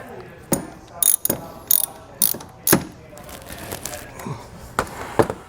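Ratchet wrench tightening the terminals on a Redarc Tow-Pro Elite trailer brake controller, with a 10 mm fitting: a series of close, sharp ratcheting clicks in short bursts separated by pauses.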